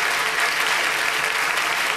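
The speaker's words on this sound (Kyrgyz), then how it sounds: "Кол чабуулар болсун." An audience at a televised song competition applauds in a dense, even wash of clapping that holds steady and loud throughout.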